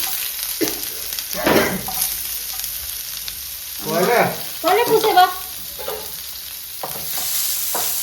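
Cumin seeds and small onions fry in a pan with a loud, steady sizzle close by. Stirring noises bunch up in the middle, and a faint voice is briefly heard.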